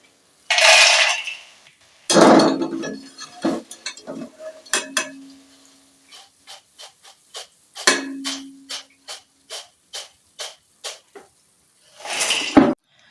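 Crispy double-fried dahi phulki pakoras rattle and clink against a metal utensil in a series of sharp, close taps and shakes, some quick and evenly spaced, separated by brief silences.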